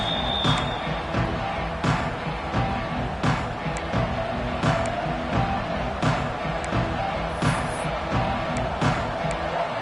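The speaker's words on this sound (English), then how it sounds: "this crowd is buzzing after that last score" A Penn State versus Nebraska college football stadium crowd roars after a score, a dense, continuous wall of cheering with scattered sharp thumps and shouts rising through it.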